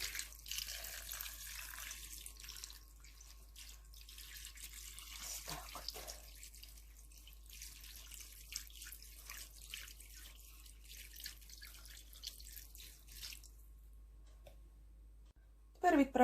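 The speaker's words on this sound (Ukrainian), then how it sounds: "І тепер зверху заливаємо 700 мг води." 700 ml of water streams and splashes steadily into a baking dish of pasta at close range, with small clicks and drips, ending in a brief knock.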